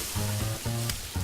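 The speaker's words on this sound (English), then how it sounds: "the sizzling fajitas is normally oil, onions, green, red and yellow peppers, then a meat." Sizzling fajitas of oil, onions, peppers and meat fry in the cooking game Cook Serve Delicious 2, a bright hiss in short repeated bursts layered with pulsing low electronic tones.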